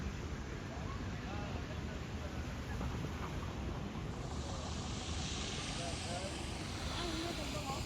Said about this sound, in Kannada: ನೋಡಿ ಅಲ್ಲಿ ಒಂದು ಫ್ಲೈಟು ಟೇಕ್ ಆಫ್ ಆಗ್ತಾ ಇದೆ ನೋಡಿ.